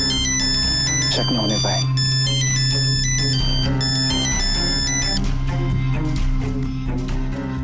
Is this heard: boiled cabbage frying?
no